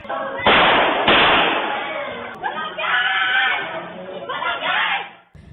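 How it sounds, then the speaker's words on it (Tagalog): Sharp bangs of gunshots caught on CCTV, two loud reports near the start, followed by people shouting and screaming, harsh and distorted as if from a low-quality recording. "narinig sa CCTV ang ilang putok ng baril at sigawan ng mga tao sa lugar"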